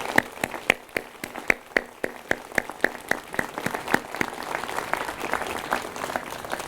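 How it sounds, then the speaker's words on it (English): An audience at the Reagan Library 25th anniversary celebration claps for the Los Angeles Police Department Band, a moderate round of applause with distinct individual claps standing out, fading into scattered clapping. "I'd like to begin our program by asking for a round of applause for the Los Angeles Police Department Band"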